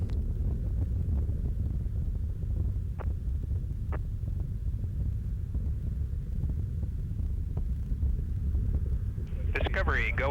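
Space Shuttle Discovery's three liquid-fueled engines, back at full 104% throttle on the STS-91 launch, give a constant deep rumbling hum, with a few faint tonal sweeps near the end.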